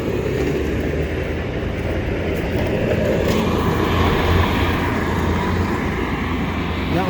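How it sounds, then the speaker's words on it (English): A Bobcat skid steer loader works on a construction site, its engine a steady, broadband rumble that holds for several seconds with a slight swell midway, moderately close and with no clear voices. "There's a guy, he's running around with a skid steer."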